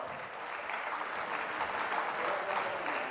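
A gathered audience at a Geeta Maitri Milan meeting in Tirupati claps loudly and steadily, a dense continuous burst of applause filling the hall without any speech.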